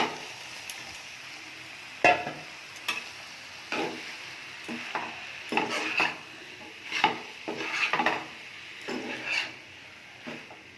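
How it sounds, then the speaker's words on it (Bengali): Pieces of bottle gourd tip into a pan of cooked-down spice masala and get stirred, with a steady low sizzle under repeated scraping and clinking strokes of a spoon against the pan. No one speaks. "মশলাটাও কষে গেছে, এবার আমি লাউটা দিয়ে দিচ্ছি।"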